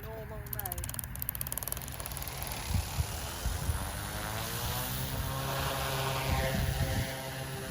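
An OMPHOBBY M2 RC helicopter flies nearby in normal mode, its rotors giving a continuous whirring buzz that rises and falls slightly, with faint voices in the background.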